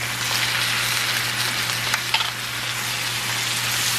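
Ground beef in a hot pan with Prego pasta sauce poured in for lasagna, a dense, close, steady sizzle with faint stirring scrapes and a couple of small pops.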